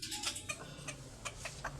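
Bantam chickens cluck in short, soft, repeated calls outdoors near their newly built coop, moderately distant and fairly quiet, with no talking.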